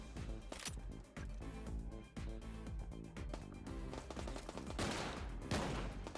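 Rapid gunfire from a weapon in the video game Get Even, dense repeated shots cracking in a fast steady rhythm across the whole stretch, loud and continuous with no pauses.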